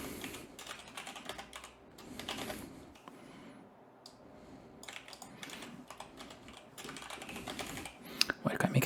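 Fast, steady clatter of keys as code is typed on a computer keyboard, close and fairly quiet, with someone speaking over the typing throughout.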